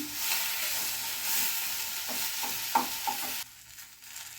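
Onions and tomatoes sauté in hot oil in a pan for Chettinad brinjal curry, a soft steady sizzle with a few light stirring scrapes before it drops away near the end.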